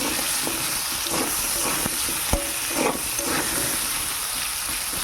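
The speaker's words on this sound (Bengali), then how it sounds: "একটুখানি হলুদ আর একটুখানি লবণ দিয়ে দেবো, দিয়ে এটা ভালো করে একটু ভাজা করে নেব।" Potato pieces frying in a pan with a little turmeric and salt, a loud, continuous sizzling hiss broken by scattered clicks and scrapes of stirring, close up, with no one talking.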